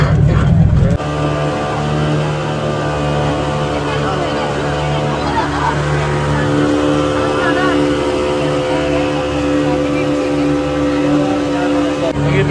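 Motorboat ride on the water at Brindavan Gardens, Mysore: a steady, droning engine hums continuously at close range, with voices chattering over it throughout.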